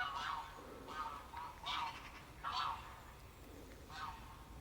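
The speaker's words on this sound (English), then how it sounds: "You can hear the geese now." Geese honk in repeated bursts of several calls each, fairly distant, over a low steady outdoor hum with no talking, on a morning in Lanzo d'Intelvi, Northern Italy.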